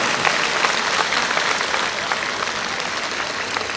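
A school audience at a Tamil awards event clapping continuously, dense and even applause from a large crowd with no break.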